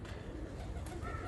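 Ferozpuri Kirla breed pigeons cooing softly at close range against a steady background hum, with no talk over them.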